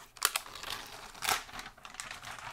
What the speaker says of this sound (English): And now, we will unwrap the M2 MacBook Air.